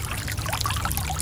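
A front yard pond fountain trickles and splashes continuously, a close, bright, unbroken wash of running water with no voices.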